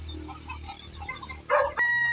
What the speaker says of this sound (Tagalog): Huwag na kayo magputak